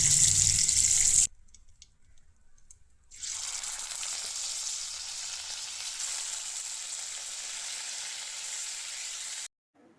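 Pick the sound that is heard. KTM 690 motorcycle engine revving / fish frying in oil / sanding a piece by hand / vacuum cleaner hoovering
fish frying in oil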